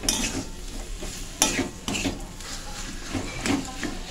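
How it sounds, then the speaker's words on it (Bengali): Salted pointed gourd chop filling is stirred in a pan over low heat, with a continuous gentle sizzle under repeated spatula scrapes and occasional clinks against the pan, with no speech. "এরপর খুব ভালো করে আমি মিশিয়ে নিচ্ছি"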